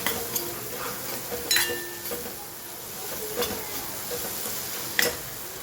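Galka, a sponge gourd, being stirred in a frying pan, with a low sizzle under several distinct scraping and clinking strokes of a utensil against the pan, no talking.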